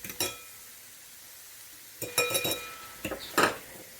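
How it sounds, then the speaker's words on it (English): Pork fried rice stirred in a metal pan, a few bursts of scraping and clinking utensil strokes separated by quiet gaps, close and fairly soft. "So we're going to give it a stir."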